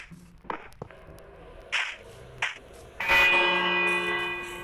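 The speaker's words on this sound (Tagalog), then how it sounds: "At tong bell is ilagay natin siya dito." A bell placed in a survival video game rings with a bright struck onset and a long sustained shimmering tone, preceded by a few short scattered thumps and clicks.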